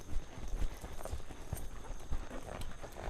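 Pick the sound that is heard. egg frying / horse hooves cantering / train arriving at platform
horse hooves cantering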